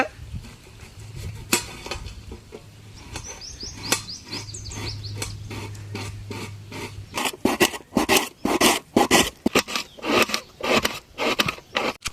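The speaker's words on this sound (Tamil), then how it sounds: "ஆளு வெங்காயத்தை வெட்டிக்கலாம் ஆளு" Onions being chopped with a knife for egg gravy in an outdoor village kitchen. Quiet scraping comes first, then a run of sharp, fast, close chopping knocks, with faint birdsong in the background early on.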